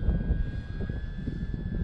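Arrows Bigfoot RC plane flying in strong, gusty wind, its steady engine drone continuous and fairly near with rough wind buffeting underneath throughout.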